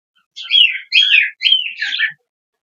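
Budgerigars chirp in four quick, close, bright bursts of warbling tweets against a silent background, with no talk.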